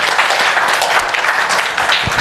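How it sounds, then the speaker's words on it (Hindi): Audience in a classroom-style camp session bursts into dense, loud applause that runs continuously for a couple of seconds. "आपके लिए ताली बजा देते हैं, आपने बिल्कुल सही जवाब दिया।"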